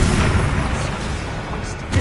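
Bombarda spell explosions in Hogwarts Legacy combat: loud, rumbling booms and bursts that overlap into a dense, continuous roar, with a fresh low thump at the very end.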